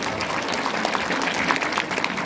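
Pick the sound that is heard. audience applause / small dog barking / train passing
audience applause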